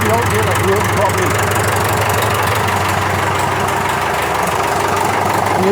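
A David Brown 990 tractor engine runs steadily at idle nearby, a constant low knocking diesel drone that fills the clip while a voice talks over it.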